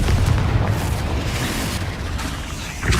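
A Confringo fire spell blasts in the Hogwarts Legacy video game, producing a dense, loud, rumbling explosion that fills the short moment with no talk.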